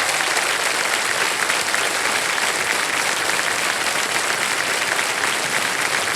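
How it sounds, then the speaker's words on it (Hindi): Continuous, dense applause from a TV quiz show studio audience holds at a steady, loud level throughout, with no pauses or talk. "ताली बज जाए आरती जी के लिए।"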